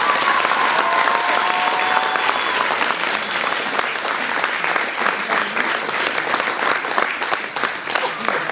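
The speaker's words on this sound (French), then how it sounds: "vous pouvez applaudir pour n'importe quel moment" An audience at a cosplay contest in Dijon applauds continuously, a dense rippling clatter of many hands that holds steady across the whole stretch.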